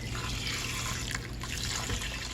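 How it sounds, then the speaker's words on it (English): Broth is poured into an Instant Pot for an easy hamburger helper dinner, a soft, steady splashing trickle of liquid at low volume, continuous over a couple of seconds. "Let's add the rest of the broth."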